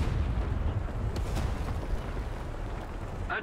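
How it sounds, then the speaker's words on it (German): Rockets fire and explode in War Thunder during a match with the CA Lorraine, a dense, continuous rumble of loud blasts and booms filling the whole moment. "jetzt darf ich mal meine neuen Raketen ausprobieren"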